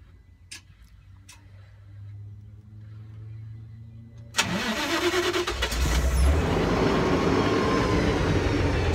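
Quiet ticking and a low hum, then a CNG truck engine cranks and catches with a sudden jump, settling into a loud steady running roar.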